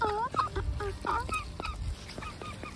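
Ducks gather up close outdoors and give repeated nasal begging calls, a quick run of short honking quacks overlapping in bursts, with seagulls and crows around.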